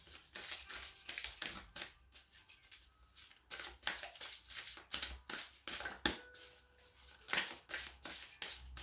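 Tarot angel cards are shuffled and handled close up, a series of quick irregular riffling and sliding bursts separated by brief quiet pauses.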